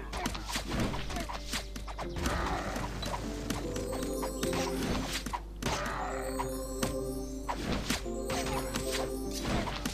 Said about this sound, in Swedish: De kastar sten på våran åsna.